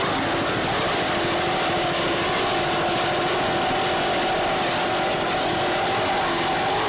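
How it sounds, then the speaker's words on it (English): Racing powerboat with Laser high-performance inboard motors at a 1988 Key West race, a steady loud roaring engine drone holding constant throughout without letup. "Just listen to those laser high performance inboard motors put out the power, and Peter's doing a great job on the thrott"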